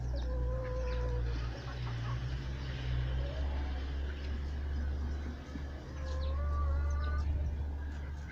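Chickens cluck softly and intermittently after rain, one hen seeming unwell, over a steady low mechanical hum, with a few short calls rising above the drone.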